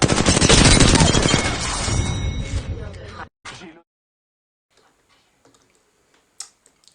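Automatic R301 rifle fire in a first-person shooter game, a dense rapid burst of loud shots lasting about three seconds, then a short extra burst and near silence with faint scattered game sounds.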